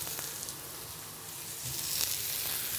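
Fallow deer venison chops, seasoned with salt and pepper, sizzle in a stainless steel pan over medium to high heat. The frying gives a steady crackle that grows louder toward the end, with no voices.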